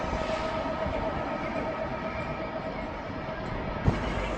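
A five-coach train stands at Crewe station, its engine idling in a steady broadband hum with a faint tonal whine, and a single sharp knock near the end.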